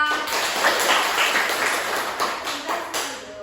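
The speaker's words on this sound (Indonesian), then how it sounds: "Tepuk tangan untuk Yunita." Applause in a primary school classroom for a student named Yunita, a short burst of clapping from a group of children that runs loud for a few seconds, then thins out.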